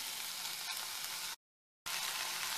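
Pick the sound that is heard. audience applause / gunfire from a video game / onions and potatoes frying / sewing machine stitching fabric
onions and potatoes frying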